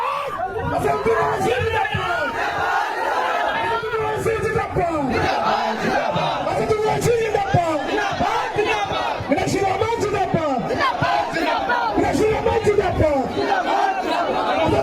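A crowd at an AIUDF political rally shouts the Nara-e-Takbir slogan in loud, rhythmic bursts of many voices, with noisy hubbub between the calls.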